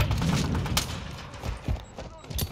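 Rapid gunfire rattles in bursts during a Call of Duty Modern Warfare 2 Hardpoint match on the Shoot House map, with sharp shots scattered across the moment and game voices calling out in between.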